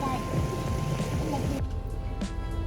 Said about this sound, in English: Our engines, yeah, they're not warmed up all the way